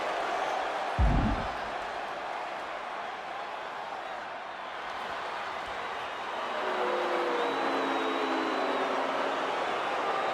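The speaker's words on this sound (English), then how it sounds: "Just listen to that crowd." Steady murmur of a large arena crowd in the wrestling video game WWE 2K26, a continuous roar of many voices with a brief thump near the start and a faint whistle-like tone later.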